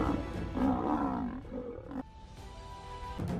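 A lioness gives a deep, loud, rumbling roar that rises and falls in long pulses, followed by a steady tone and a quieter tail.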